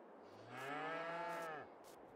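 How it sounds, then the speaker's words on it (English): Cows moo loudly and steadily in a farming video game, one long drawn-out bellow about a second long rising and falling in pitch, heard alone without talk. "Those cows are quite noisy in there."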